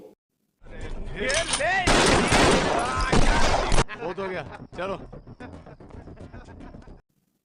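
Gunfire in an Indian police-versus-gangster film scene, with loud rapid bursts of shots mixed with dramatic music, shouting voices and effects.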